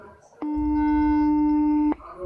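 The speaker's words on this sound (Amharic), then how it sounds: "እየጠራ ነው።" Telephone ringback tone heard while placing a call, one loud steady electronic tone lasting about a second and a half, starting and stopping abruptly against a quiet background.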